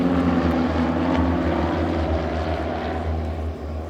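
Propeller aircraft of the Royal Norwegian Air Force Yellow Sparrows flying display at RIAT 2024, a slow aircraft cruising near 100 knots, producing a steady droning engine hum that holds loud and even throughout with no talk.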